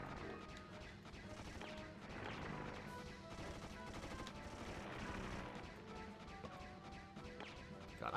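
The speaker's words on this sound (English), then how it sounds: "that laser's just gonna keep firing" Laser weapon firing continuously in the Disney's Atlantis PS1 game's Aktirak flight level, a dense steady wash of repeated blasts and crashes over a busy game soundtrack, fairly quiet overall.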